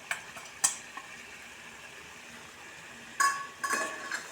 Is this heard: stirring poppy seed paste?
yes